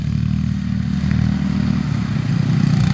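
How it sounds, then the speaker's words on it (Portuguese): A small go-kart engine at a kart racing challenge drones close by, its buzzing motor running steady and loud throughout without any voices. "Acelera, Bada."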